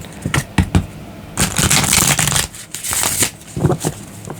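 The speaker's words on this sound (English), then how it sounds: "One more shuffle and then cut the deck." Close, loud riffling of tarot cards being shuffled in several quick bursts, a few short flicks followed by longer crackling riffles.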